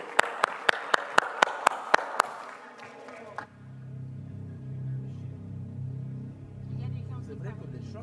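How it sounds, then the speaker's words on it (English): About eight sharp, evenly spaced claps ring out at a climate summit session, then give way to a low rumbling crowd murmur. "Give yourself a round of applause."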